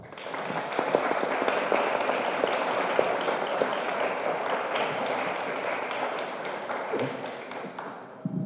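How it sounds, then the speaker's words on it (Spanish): Sustained audience applause at a panel event on water distribution and climate change, dense and even throughout, fading slightly near the end with little speech. "Un fuerte aplauso."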